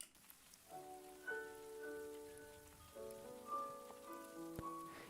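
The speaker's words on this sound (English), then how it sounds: "no original piano. You only have delay" Faint, washy piano notes through a fully wet delay with no dry signal echo and smear together, a distant delayed sound with no crisp attack, quiet over soft background hiss.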